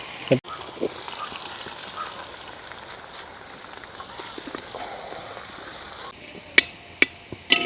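Crushed garlic and ginger frying in oil for fish pickle, a soft steady sizzle close by with faint stirring, then a few sharp clicks of a utensil near the end.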